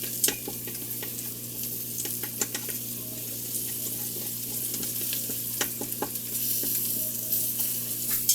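Spices are stirred into a vegan kichuri base in an Instant Pot pressure cooker: a spoon scrapes and clicks against the metal pot in irregular bursts over a steady, close sizzle, with no one talking.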